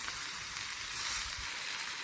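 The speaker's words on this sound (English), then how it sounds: "You can certainly hear them sizzling." Strawberries cooking in a pan with sugar for a coulis make a steady, close sizzle and crackle, alone and unbroken by talk.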